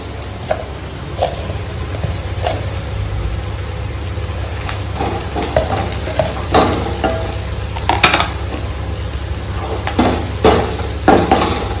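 Onion, ginger-garlic paste, turmeric and chili powder frying in a pan for chicken biryani, a constant sizzle broken by repeated spatula scrapes and taps that come closer together toward the end.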